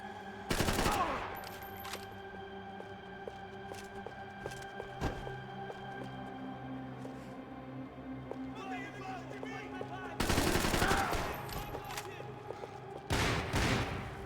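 Gunfire in the video game Max Payne 3 comes in loud, rapid bursts of automatic shots, one near the start and two more near the end, with quieter game sounds between.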